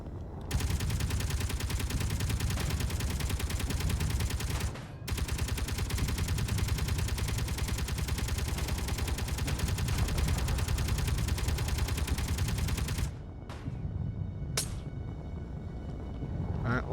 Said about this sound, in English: Let my Gatling cannon take care of it